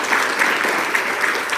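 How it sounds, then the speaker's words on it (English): An audience claps in a short, dense burst of applause, loud and continuous throughout, at a live broadcast from a Hindu temple in New Jersey. "let's have a great round of applause"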